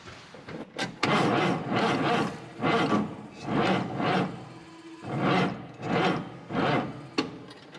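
A Chevrolet El Camino with a weak battery, helped by a booster box, cranks in a string of about seven loud, churning bursts separated by short pauses, with no voices.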